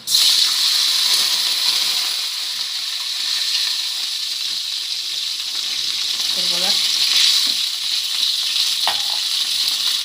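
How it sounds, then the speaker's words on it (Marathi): Water poured into a hot tadka for dhokla, bringing a bright sustained hiss and sizzle that persists throughout, with a brief spoken remark partway through. "तर मी थोडंसं पाणी टाकून घेणार आहे."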